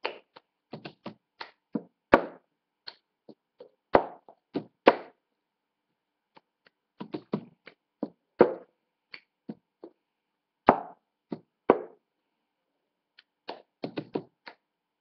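Cups rapped and slapped on a tabletop in the rhythmic pattern of the cup game, sharp knocks and hand claps in short bursts separated by pauses, close and fairly loud with no voices.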